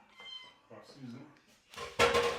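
A pet cat meows a few times indoors while a person talks to it, the meows close and mixed in with the speech, ending in a louder burst of noise.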